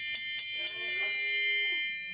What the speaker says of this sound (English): You get the bell right away.